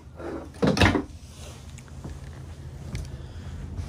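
A wooden drawer in a 2023 Grand Design AIM 15BH travel trailer slides and bumps shut once, a short close clatter followed by quiet room noise with a couple of faint knocks.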